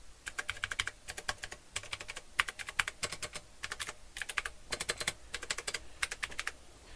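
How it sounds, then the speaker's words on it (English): Someone types on a C64x keyboard fitted with Cherry blue switches: crisp, clicky keystrokes arrive close up in quick bursts, separated by short pauses. "With cherry blue switches, I feel that they are very close to the original Commodore sounding"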